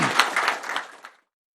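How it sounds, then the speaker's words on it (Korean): A short burst of applause for the prime minister from a small group at a cabinet meeting: dense clapping that lasts about a second before stopping abruptly. "우리 총리님한테 박수 한번 쳐주시죠."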